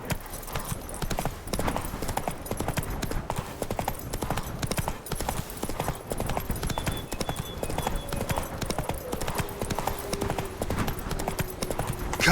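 Hooves of Roach, a horse in The Witcher 3: Wild Hunt, galloping in a fast, continuous clip-clop rhythm, close and steady, with game ambience and music underneath.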